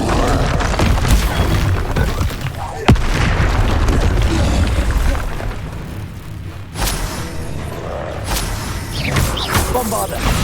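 Bombarda explosion spells go off in a Harry Potter video game battle against a dragon, with loud booms, a sharp crack and crashing debris amid continuous rumbling and a talking voice.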